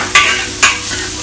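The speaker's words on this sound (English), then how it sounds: "Fry them around until you can smell the fragrances." Dried shrimps stir-fried with onion and garlic in a hot pan: a loud, close, hissing sizzle broken by two quick scraping tosses of a spatula, with no voices.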